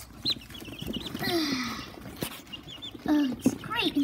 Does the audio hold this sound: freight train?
no